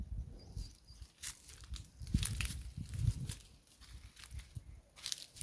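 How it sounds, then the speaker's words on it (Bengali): Rustling, crinkling leaf sounds as sour spinach is picked by hand in a village garden, close and irregular with small tearing snaps, no talking. "এই টক পালংগুলো এখন আমি তুলে নেব।"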